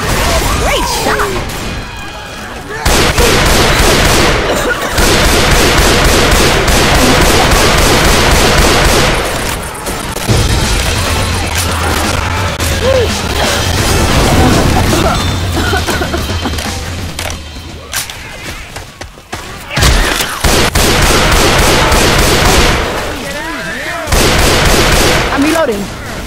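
Dense gunfire in Left 4 Dead 2, loud bursts of shots and crashing impacts in long sustained stretches broken by short pauses, with game voices calling out at times.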